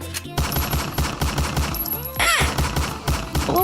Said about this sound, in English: Oh my goodness, gunshots!